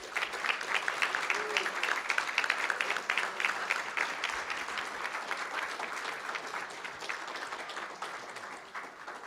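A school board meeting audience breaks into sustained applause, a dense, even wash of many hands clapping that holds for about nine seconds before easing slightly.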